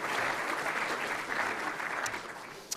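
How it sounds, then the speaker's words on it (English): Audience at a football awards night applauding the TAC Cup coaches, a sustained, even wash of many hands clapping throughout. "Can we please have a round of applause for all of our wonderful coaches for the TAC Cup and TAC Cup girls?"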